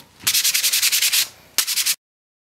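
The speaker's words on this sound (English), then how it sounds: "So just a little sanding." Hand sanding on a wood pallet clock gives quick, even back-and-forth rasping strokes, about a dozen in a row, then a pause and a shorter burst of a few more strokes, close and loud, then it stops.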